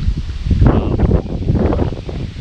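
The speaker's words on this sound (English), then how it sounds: "Hope the wind isn't messing this up too much." Wind blows across the microphone on a sunny hike along an abandoned road, giving steady, fluttering rumble with bursts of rustling noise and no voices.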